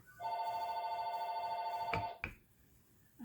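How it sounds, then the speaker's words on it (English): A telephone rings with a steady electronic warble for about two seconds, then cuts off, followed by a short click and quiet room noise. "I hear the phone ringing"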